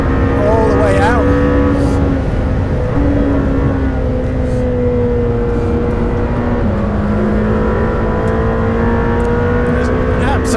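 Lamborghini Temerario engine revving out hard under acceleration from inside the car, a loud, rising engine note that drops at each gear change and climbs again without a break.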